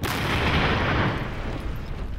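A bomb buried under a road goes off in a test blast, a loud, dense roar of debris and rumble that fills the clip and slowly thins without fully dying away.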